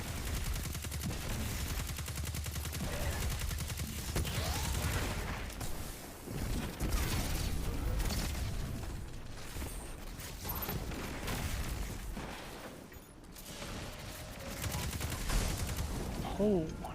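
Continuous gunfire during a Destiny 2 Vault of Glass raid, rapid repeated shots and impacts forming a dense, fairly quiet layer, with a player's voice talking over it.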